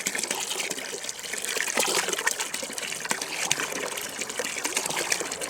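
Brown, rusty water from a homemade well pump gushes and splashes in a steady, close stream with slight surges, running alone without talk.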